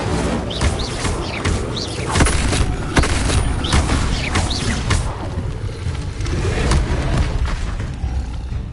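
Fiery Incendio spell bursts in the video game Hogwarts Legacy, a run of sharp crackling whooshes and booms repeating over a dense, busy ambient din, loud and close.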